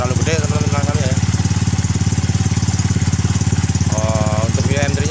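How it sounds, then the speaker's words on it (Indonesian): Yamaha Mio M3 scooter engine idling with an open, hollow exhaust and a rough, knocking sound, a steady close, loud, rapid pulsing with a few faint sounds above it. "Nah, motor udah langsam, udah ini juga terlalu gede teman-teman langsamnya ya."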